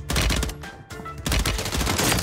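Loud, rapid automatic gunfire from a Warzone match comes in close bursts, with a short pause in the middle before firing resumes.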